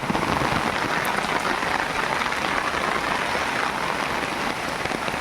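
Heavy monsoon rain pouring down on coconut palms in Kerala, a dense, loud, continuous hiss of drops hammering surfaces, unbroken for the whole stretch.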